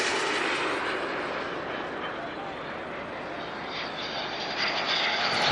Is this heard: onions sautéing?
no